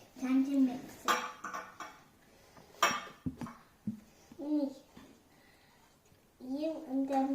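Ugadi pachadi being stirred in a pot, with spoon clinks and scraping against the vessel coming in short bursts while a child and an adult talk over it.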